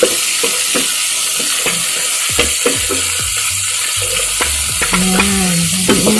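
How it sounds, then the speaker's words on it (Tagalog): Pork with onion and garlic frying in a pan, stirred with a utensil: a close, busy sizzle broken by repeated scraping strokes, with a brief squeaky tone near the end and no talking. "Haluin natin hanggang maglutuin ang ating sibuyas at bawang."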